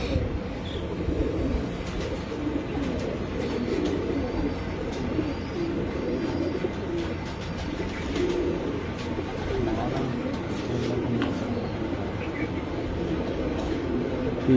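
Domestic pigeons of a red-eyed breeding line cooing steadily in a loft, a dense low murmur running throughout with soft clicks and a faint rumble like a passing train behind it; no talking.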